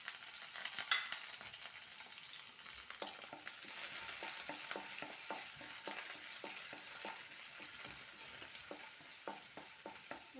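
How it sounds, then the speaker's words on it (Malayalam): Mustard seeds, dried chilli, shallots and curry leaves frying in oil for Kerala-style beetroot thoran, giving a steady soft sizzle with many quick popping crackles and occasional stirring scrapes, with no voices. "കടുക് പൊട്ടി തുടങ്ങി. അതിലേക്ക് നമുക്ക് ഒരു വറ്റൽ മുളകും, കൊച്ചുള്ളിയും, കുറച്ച് കറിവേപ്പില"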